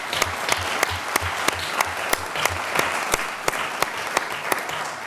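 A round of applause at a Richmond, Virginia city council meeting, a roomful of people clapping steadily, with a sharp rhythmic tapping pulsing regularly underneath throughout.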